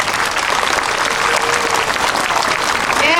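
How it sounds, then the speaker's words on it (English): A school assembly audience applauds a banner carrier in the Camellia Parade with steady, dense clapping from a crowd that fills the room, and a voice briefly surfaces near the end. "can we please give her a big round of applause?"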